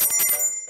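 A short bright notification bell chime rings out loud and clear, its shimmering high tones fading away within a second.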